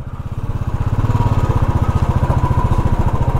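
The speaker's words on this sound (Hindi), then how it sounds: "चैन इतनी क्यों बाज रही यार" Motorcycle riding on a winter mountain road, its engine pulsing in a fast steady rhythm with a loud, close mechanical rattle from the drive chain, no voices.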